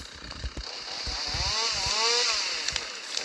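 A chainsaw engine in a Minecraft mod revs up and whines, its pitch rising and falling, with some thuds and clanks around it.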